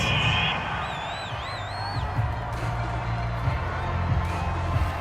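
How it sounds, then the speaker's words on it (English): Home crowd in Madden NFL 22 cheering a penalty call, a broad stadium roar with whistles and whoops swelling under a commentator's voice. "This home crowd, they're happy with that call."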